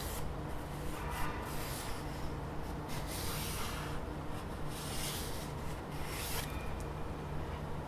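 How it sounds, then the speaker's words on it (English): A pen or pencil draws a wobbly shape of a GPD Pocket computer by hand, giving soft, close scratching and rubbing strokes in short bursts with brief pauses between them. "I'm just going to draw a wobbly shape of the GPD pocket"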